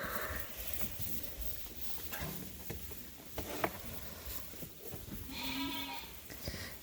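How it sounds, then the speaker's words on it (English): Sheep ewes bleat and shuffle on a farm while jostling over fresh hay, with scattered rustling and soft patter plus a couple of clear bleats near the end, fairly quiet overall. "the ewes all got fresh hay, and they're just fighting over that spot"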